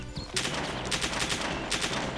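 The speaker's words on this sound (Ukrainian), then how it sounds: "Я по ньому стріляю" Rapid bursts of gunfire in the video game DayZ Standalone crackle loudly and almost continuously, a dense volley of shots with a couple of heavier surges.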